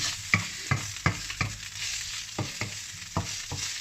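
Fatty meat browns in a pan with no added oil, sizzling steadily while a utensil scrapes and stirs in about eight sharp, close strokes. No one speaks.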